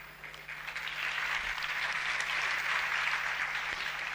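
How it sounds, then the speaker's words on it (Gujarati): Children clap together in steady, dense applause that holds at an even level for a few seconds before easing slightly at the end, with no speech over it. "આ જે છોકરાઓ તાળી પાડે છે"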